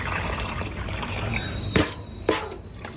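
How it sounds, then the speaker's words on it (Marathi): Water poured onto a young garden plant grown from a side shoot, a steady close splashing trickle that runs on before two short knocks or thuds near the end. "पाणी घालून घेऊ"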